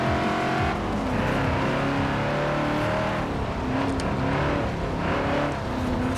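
A stock 1973 Ford XB Falcon GT from Forza Horizon 4 revs steadily and loudly, its engine note rising and falling in sustained pulls that fill the whole stretch with no talk.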